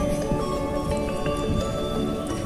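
Rain falls steadily on a flooded rice field of week-old direct-seeded paddy, a dense, continuous patter of drops that holds an even loudness throughout and has no talking over it.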